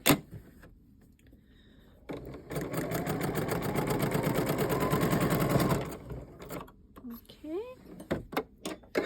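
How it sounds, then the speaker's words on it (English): A sewing machine stitches a lonestar diamond quilt block, running steadily for about four seconds, with a voice speaking close by before and after the stitching. "Sew my leader back under here."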